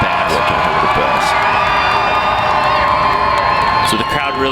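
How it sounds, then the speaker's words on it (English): A home crowd at a university rugby match between BYU and Utah cheers and whoops loudly and continuously, with shrill shouts rising above a dense wall of voices. "So the crowd really getting into it here"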